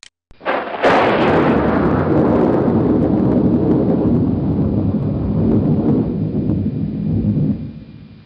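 Thunder from lightning bolts in a physics animation: a sharp crack that swells at once into a loud, broad, rolling rumble lasting several seconds before fading out.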